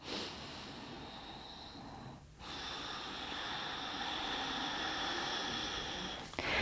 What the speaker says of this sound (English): It's deep, deep diaphragm breathing where you're inhaling